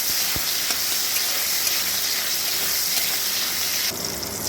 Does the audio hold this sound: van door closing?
no